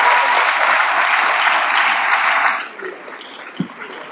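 An audience at a public-private business roundtable on technical talent development applauds, a dense wash of clapping that cuts off abruptly partway through, followed by quieter room sound and a single soft knock.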